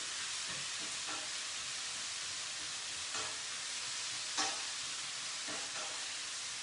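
Onions cooking slowly in ghee in a pan make a soft, steady sizzle and hiss throughout, broken by a few faint stirring scrapes, quiet and close.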